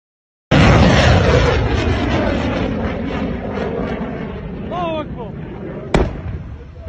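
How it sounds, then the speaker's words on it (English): A sudden loud blast from an air defense interception of an Iranian missile over Kuwait, followed by a long rolling rumble and a second sharp crack near the end. Excited voices can be heard over it. "an air defense missile shoots down an Iranian missile over Kuwait"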